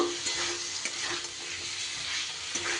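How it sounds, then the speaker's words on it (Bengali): Fried pumpkin pieces stirred into a cooked spice masala in a pan, a continuous dense sizzle with soft scraping strokes of a spatula, close and steady, no voices. "কুমড়োগুলো দিয়ে এবার একটু নাড়িয়ে চাড়িয়ে নেব"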